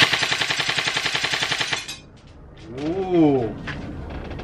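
An HK 416c airsoft rifle fires a rapid full-auto burst of sharp clattering shots for under two seconds, close and loud, followed by a man's brief spoken reaction.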